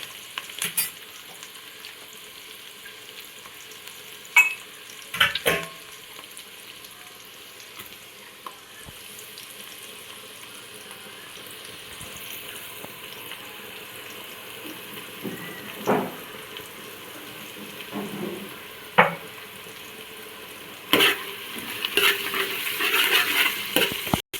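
Ginger paste frying with whole spices such as cloves, star anise, mace and nutmeg in a pot, a steady sizzle running throughout with occasional stirring scrapes and knocks, growing busier near the end.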